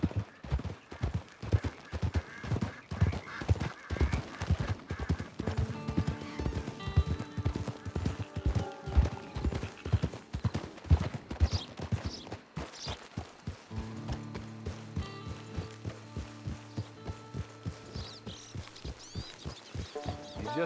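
Horse hooves clip-clop in a steady, brisk rhythm in Red Dead Redemption 2, fairly close and clear, easing and thinning out toward the end as a voice speaks briefly.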